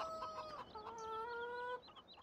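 Chickens in Farming Simulator 17 cluck in short, repeated calls with steady tonal notes, fairly close and clear, with no talking.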